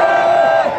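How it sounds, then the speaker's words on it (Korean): At an outdoor political rally, a large crowd lets out a brief, loud shout and cheer that rings together as one sustained roar before tapering off. "여러분 보이지 않지만 함성 많이 질러주세요"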